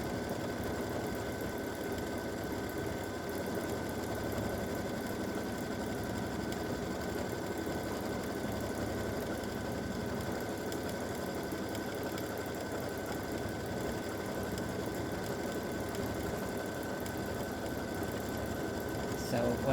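Embroidery machine stitching an edge-to-edge quilting design of hummingbirds and hibiscus, a steady continuous whir and rapid needle chatter running without pause throughout.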